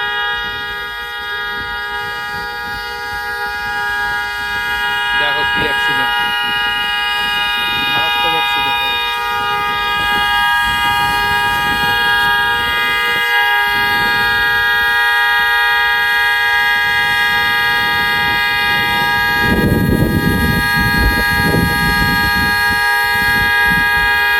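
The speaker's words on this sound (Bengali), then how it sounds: "দেখো পুরো হর্ন বেজেই যাচ্ছে" After a car accident on a New York street, a car horn blares without pause as a sustained, loud, steady tone, while people talk over it and traffic rumbles around.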